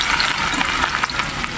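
Onion and garlic frying in a pan for a spicy meat dish, a dense, steady close sizzle with faint crackles throughout.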